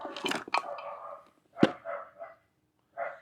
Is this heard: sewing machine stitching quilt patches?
no